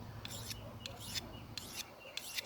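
A Yakut knife with a convex edge scraped across a 120 grit stone, giving four short rasping strokes in a steady rhythm, close and fairly quiet with no talk.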